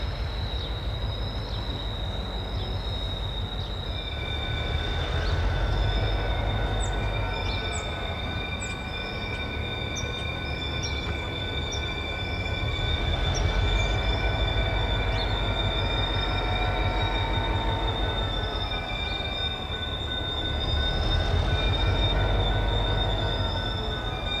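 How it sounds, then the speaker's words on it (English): A freight train locomotive switches boxcars and center-beam flatcars near a rail spur, a steady rumble of cars rolling by with high wheel squeals ringing out throughout, continuous and fairly close. "the NX-10 pulls ahead west towards the Chepag Spur, where they'll cut the 2 center beams and drop the boxcar in first"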